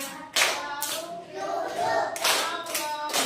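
Fifth-grade students in a classroom clap their hands together in several sharp bursts of group clapping separated by short pauses, fairly close, with singing and talk mixed in between.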